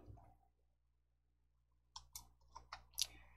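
Several quick computer mouse clicks, close and crisp, come in an irregular burst after a near-silent stretch, with no one talking.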